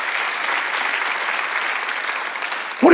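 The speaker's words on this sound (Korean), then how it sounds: "박수 한번 주세요." A Korean church congregation applauds during a Sunday worship service, steady dense clapping from a full room that holds level for nearly three seconds before a voice cuts in at the end.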